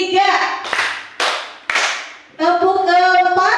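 A group of teachers playing a concentration clapping game, with a few sharp, separate hand claps at close range landing between stretches of a woman's spoken instructions.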